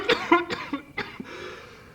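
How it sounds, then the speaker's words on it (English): A string of harsh coughs, six or so in quick, uneven succession, close and fairly loud, with no talking. "Stop that coughing, for goodness sakes."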